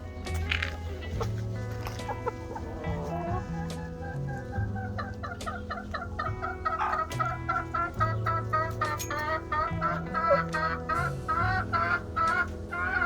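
Several pet hens cluck and murmur close by in a steady, overlapping series of short calls, fairly soft, with little else going on.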